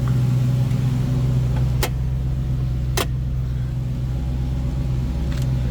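A 1941 Ford pickup street rod idling, a steady deep engine rumble throughout with a couple of brief sharp clicks over it.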